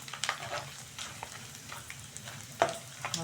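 Homemade potato wafers frying in hot oil, a crackling sizzle broken by scraping stirs and a couple of louder clinks of a utensil, close and without talk.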